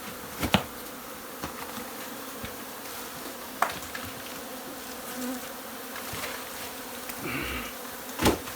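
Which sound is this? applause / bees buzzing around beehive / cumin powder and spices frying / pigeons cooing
bees buzzing around beehive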